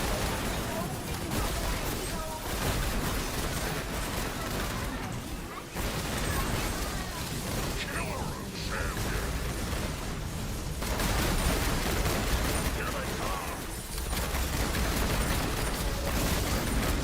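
Shotgun fire in the sci-fi shooter Space Punks, a dense, loud barrage of blasts and mechanical noise running continuously through a busy, chaotic fight.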